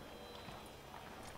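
Soft, quiet clip-clop of horse hooves walking at a steady pace in a video game, faint and slightly muffled against a low background.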